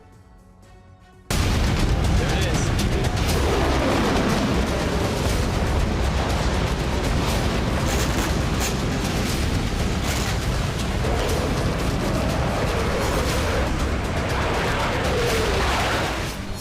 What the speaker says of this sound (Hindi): बेलारूस की जमीन पर ऐसा ही धमाका करने वाला विनाशकारी बम पहुंच चुका है